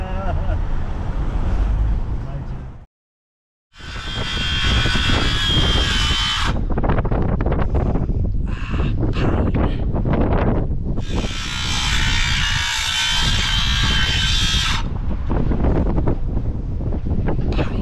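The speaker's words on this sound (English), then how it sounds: "It's really windy" Heavy wind buffets the microphone in loud roaring gusts at an outdoor bricklaying site, broken by a brief silent gap and a few surging bursts.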